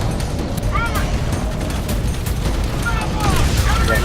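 Explosions and gunfire boom in the shooter game Crysis Warhead, a dense, continuous rumble of blasts throughout, with players talking excitedly over it.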